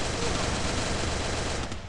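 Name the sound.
gunfire in Free Fire video game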